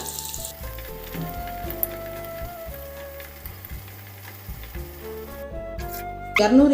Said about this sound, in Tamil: நான் சீக்கிரமாக பொரிக்கணுன்றதுக்காக எண்ணெய் அதிகமாக வச்சு டக்கு டக்குன்னு போட்டு எடுக்கிறேங்க